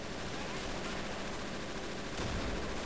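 Machine gun fire in the WWII strategy game Men of War: Assault Squad 2, a dense continuous crackle of rapid shots mixed into battle noise, fairly distant and muffled, with a louder burst near the end.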